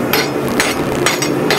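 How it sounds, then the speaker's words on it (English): A farrier's rasp deburrs the ends of half-inch square steel bar for coat rack hooks, giving a few rough, rhythmic scraping strokes up close and fairly loud. "Using a farrier's rasp."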